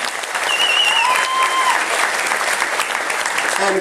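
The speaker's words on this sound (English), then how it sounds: "Let's have a round of applause for the cruise director," A dense, steady burst of audience applause for a cruise director fills a room on a cruise ship, loud and sustained for several seconds with a few whistles riding over the clapping.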